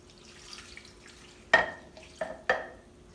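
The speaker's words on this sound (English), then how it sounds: "take this beef broth and pour it over the roast and the onions" Beef broth poured over a roast and onions in an older slow cooker: after a soft start, three short splashing bursts land close by, each trailing off quickly.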